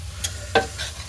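Adadiya mixture being stirred and roasted in ghee in a home kitchen, with a couple of soft scraping strokes over a low, steady sizzle and no voices.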